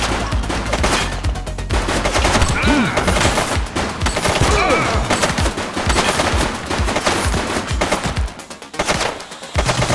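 Rapid bursts of gunfire in the GTA 2 police pursuit game, dense and loud, sustained across the whole stretch with overlapping shots and game effects.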